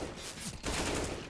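P2000 pistol fire in a Counter-Strike match between Vitality and Gambit at IEM Katowice, a sharp shot cracking amid dense, loud game noise and crowd ambience.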